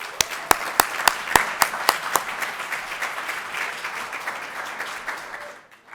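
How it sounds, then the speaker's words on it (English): Audience applause welcoming a speaker at a university business competition, opening with a few loud, regular claps near the front before settling into a sustained crowd of clapping that fades out at the end. "A round of applause for Brian."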